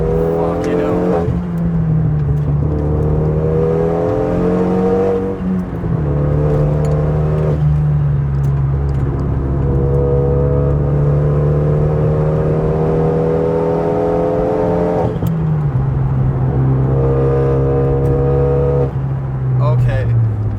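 A Renault Megane 275 RS engine, heard loud from inside the car, pulls hard through accelerating and cornering, its rising engine note dropping sharply at gear changes.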